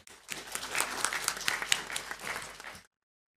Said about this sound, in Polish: Rozumiemy i prosimy o brawa dla pana Bielana.